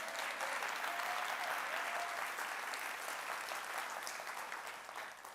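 Keynote audience at the Thrive 2022 conference gives a dense, sustained round of applause for an interpreter, filling the room evenly before tapering slightly at the close.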